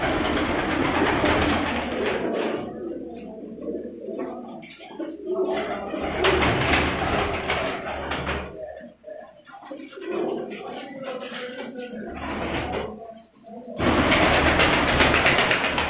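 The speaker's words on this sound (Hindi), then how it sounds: "जहाँ पर उनके ब्रीडर कबूतर हैं वहाँ पर मौजूद हैं" Sialkoti breeder pigeons coo in soft, repeated rolling calls amid a busy loft background with rumbling noise, near and fairly loud, with breaks of quieter sound.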